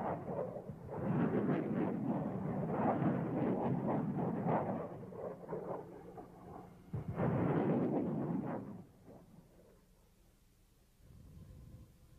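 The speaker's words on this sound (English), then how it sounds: "the small submunitions blanket a wide area" MLRS rocket submunitions detonating across a wide area in a Desert Storm ground assault, heard as a dense, continuous roar of overlapping rumbling blasts that swells twice, then drops away to a quieter low rumble.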